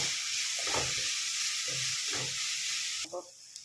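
Ginger, garlic and onion sauté in a pan under a steady sizzle, broken by rhythmic scraping stir strokes from a spatula, heard up close.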